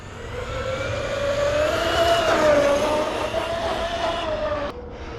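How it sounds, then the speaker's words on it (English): A Traxxas Sledge RC truck runs flat out at full throttle down a straightaway, its motor a loud, rising electric whine that holds steady before cutting off abruptly near the end. "I can just see that power there when we're hitting full throttle, max throttle there."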